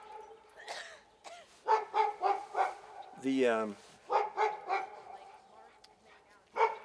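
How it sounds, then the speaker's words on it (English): Dogs barking outdoors as they pass by, a series of sharp repeated barks and a drawn-out whining howl, fairly close, with a brief word of speech at the start. "Dogs walking by."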